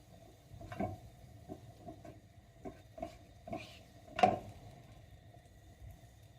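Utensil stirring and scraping in a non-stick pan while eggs with cottage cheese cook, giving a series of soft, close taps and scrapes at an irregular rhythm, with a faint sizzle underneath and one sharper clack near the end.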